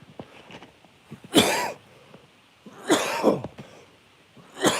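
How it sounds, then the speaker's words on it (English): Three harsh, deep coughs burst out one after another with quiet gaps between, the last cut short at the end. "Oh, deep cough."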